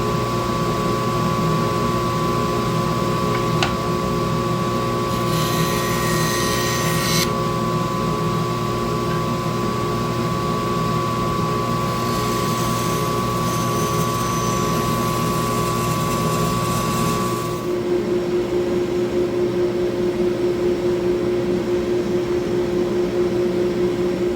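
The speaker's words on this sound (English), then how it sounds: "So I'm going to take this now and bandsaw that" A bandsaw runs in a steady loud mechanical drone while cutting a wood template for a walnut and ash display, with a high whine that drops out partway and the motor hum continuing alone.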